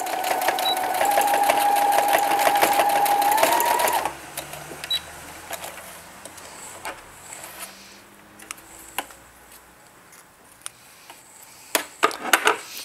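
A sewing machine with its normal presser foot stitches bias binding onto a patchwork pouch, whirring steadily for about four seconds before stopping, then soft scattered handling clicks follow.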